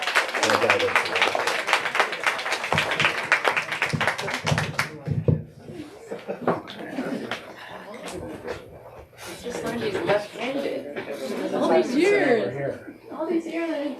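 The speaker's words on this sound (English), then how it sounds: "Let's give them both a round of applause." Applause from an audience at a literary event, a dense wash of many hands clapping for about five seconds, then fading into scattered claps and murmuring voices as people settle.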